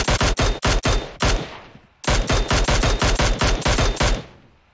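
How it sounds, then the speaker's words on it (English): Video game gunfire from a team shooting, rapid bursts of loud, close shots in two volleys separated by a brief pause. "Now Team 11's coming in from the left and is shooting."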